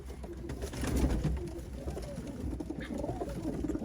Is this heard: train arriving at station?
no